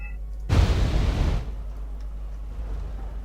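Artillery fire in the real-time strategy game Wargame: a single loud, broadband blast lasting about a second, up close, with a rumbling tail fading into low background hum.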